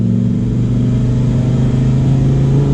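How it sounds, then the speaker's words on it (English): Lamborghini Huracan Performante engine in track mode on a twisty road, a loud sustained droning exhaust note holding steady from inside the cabin, with no distinct cracks or pops standing out. "The loudest cracks and pops from the exhaust"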